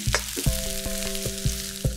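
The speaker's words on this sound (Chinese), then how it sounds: "让它煸一会儿， 煸出香气，我们再把大蒜、蒜末倒进去，我们再加入洋葱" Minced garlic and onion sizzle in hot oil in a wok during a Chinese stir-fry, a bright steady frying hiss broken by regular clanks of the spatula against the pan, alone without talk.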